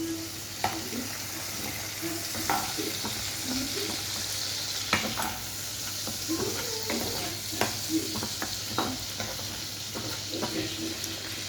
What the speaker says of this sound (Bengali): তেলটা একটু গরম হয়ে গেলে এই চিংড়ি মাছ বাটাটা এর মধ্যে ছেড়ে দেবো